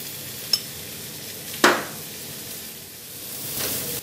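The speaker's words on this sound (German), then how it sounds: "Und diese werden in Butter angebraten." Apple ring slices fry in butter in a pan with a soft, steady sizzle, broken by a light tap and a sharper clack of a utensil, then a rising hiss near the end; no talking.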